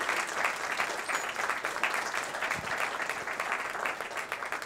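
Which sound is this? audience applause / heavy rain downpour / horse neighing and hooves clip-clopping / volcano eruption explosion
audience applause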